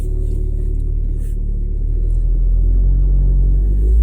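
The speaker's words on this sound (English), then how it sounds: "sorry if you hear some fucking rattling and vibrations, because my car is so fucking loud" A Honda Civic rumbles heavily while being driven, a loud, steady low drone of engine and road noise with faint rattles and vibrations throughout and no talking.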